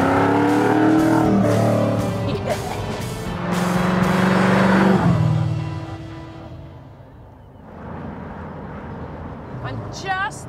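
A Ford GT40 with a 5-liter engine drives through countryside near Reims, its loud engine note rising and falling through gear changes and revs, with a voice talking over it for much of the time.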